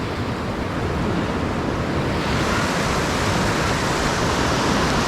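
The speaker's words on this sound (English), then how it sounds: "And this must be some sort of falls," Rushing water from rapids or a small falls along a rocky river in Ohiopyle, a steady, loud, broadband roar with no pauses, heard close and alone.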